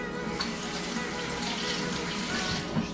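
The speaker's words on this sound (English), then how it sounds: "Wash your hands off a little bit." Tap water runs steadily into a kitchen sink as hands are rinsed after making protein waffles, a constant close wash of splashing with no pauses.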